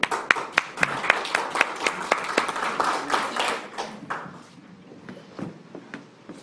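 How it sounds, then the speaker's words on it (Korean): Scattered clapping from a small group at a party leadership meeting in a conference room, a quick burst of close hand claps that thins out into a few stray claps and quiet. "박수 한번 치세요."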